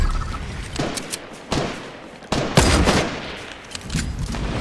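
Gunfire in a shooter video game played with only shotguns and sniper rifles, several loud sharp shots with echoing tails spaced across a few seconds, fairly close.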